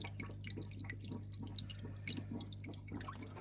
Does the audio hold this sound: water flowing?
yes